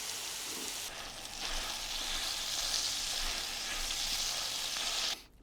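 Burgers fry in a pan outdoors, a continuous close crackling sizzle that swells slightly and then cuts off near the end, with no talking over it.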